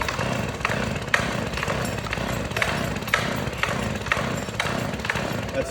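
A flooded chainsaw, choke fully closed, is pull-started again and again; the starter cord rips out in a steady series of roughly seven strokes against a continuous loud mechanical drone, with no clear catch.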